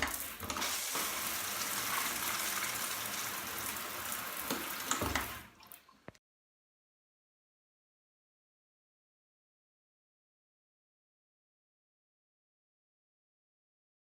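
A household shower sprays steadily for about six seconds as a rain imitation, a dense hiss of falling water, then cuts off abruptly into silence.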